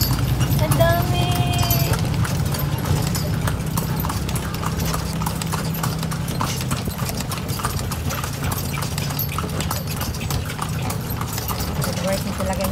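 Horse hooves clip-clop steadily on the street of Calle Crisologo as the horse pulls a kalesa carriage, a continuous close rhythmic clopping with rattling carriage sounds and people talking over it.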